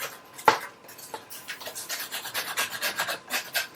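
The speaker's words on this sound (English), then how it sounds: "Scraping the moss and lichen off the firewood before I put it in the box." Moss and lichen being scraped off firewood with a rapid series of rough, rasping strokes, close and fairly loud, with one sharper knock at the start.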